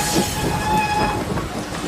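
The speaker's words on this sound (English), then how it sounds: "London train." A London-bound passenger train runs along the rails with a steady rumbling roll and faint wheel squeal, heard close and continuous with no voices.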